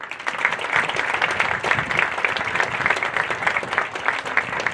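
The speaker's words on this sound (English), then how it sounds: "Ladies and gentlemen, please give a round of applause to legendary coach Mike Springer." An audience at a lacrosse alumni night applauds coach Mike Springer, a steady, dense patter of many hands clapping together at an even level throughout.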